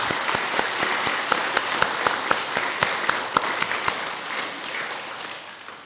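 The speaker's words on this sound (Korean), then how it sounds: "박수 한번 충분히 치겠습니다." A seated audience at a Buddhist dharma talk applauds, a dense, even patter of many hands clapping at moderate distance with a few sharper claps standing out, tapering slightly near the end.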